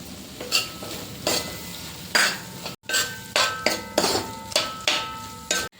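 Chilli pork masala with squared capsicum being sautéed in a pan, close and clear: repeated scraping stir strokes in an uneven rhythm, with clinks of a spoon on metal over a soft sizzle, and no voices.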